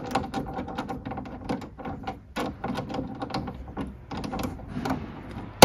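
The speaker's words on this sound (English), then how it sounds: "insert the screw and tighten it" Mechanical ratcheting and clicking of a screw being driven home on the front trunk (frunk) of a BMW i4, irregular clustered ticks and scrapes continuing steadily throughout, close up with no talk.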